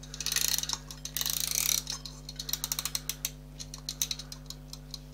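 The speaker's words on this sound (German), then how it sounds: "das heißt, wir nehmen unsere Eieruhr" A mechanical kitchen egg timer being wound to one hour: a run of rapid ratcheting clicks, then slower, separate ticking clicks as the dial turns, close and alone over a steady low hum.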